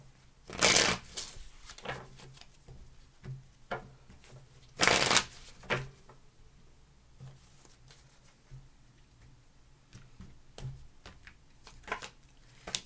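A tarot deck is shuffled close-up during a reading, two sharp, loud riffles early on followed by quieter intermittent card taps and slides, with no voice present.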